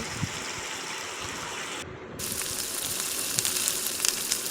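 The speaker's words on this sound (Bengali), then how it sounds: "আর একটু একটু লুচি ভেজে নিলাম" Luchi frying in oil makes a steady, bubbling sizzle that briefly dips near the middle and then returns a little louder.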